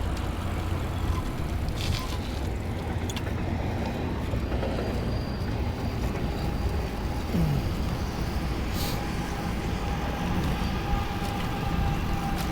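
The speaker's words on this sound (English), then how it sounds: "That's the Trans-Canada Trail train CN or whatever." A CN freight train along the Trans-Canada route rumbles past at a distance as a steady, continuous low roar, with faint higher screeches and wind noise, heard while out riding a Bafang BBS02 electric bike.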